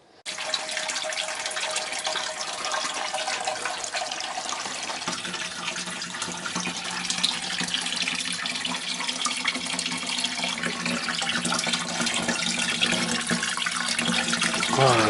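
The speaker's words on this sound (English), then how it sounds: "So let's add some water to it and see if it holds the water." Water pours from a tap into a DIY acrylic aquarium tank, a steady close rushing splash that starts abruptly and continues, its tone shifting slightly as the tank fills.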